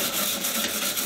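Steady scratchy brushing on a Renault 4L being restored, a continuous close rasping scrub with a slight rhythmic rise and fall, heard alone.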